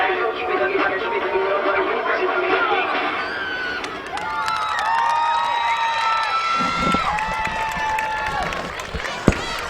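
At halftime of a 2010 high school football game, the Nevada Union cheer squad performs against Monterey Trail. A loud stadium crowd murmurs and cheers, then sustained shouted chant tones ring out over the noise.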